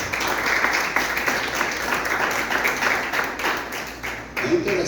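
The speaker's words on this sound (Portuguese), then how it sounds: "Pode aplaudir o André." A church congregation claps during a family worship service, a steady dense patter of applause filling the room and holding throughout, with a voice briefly heard near the end.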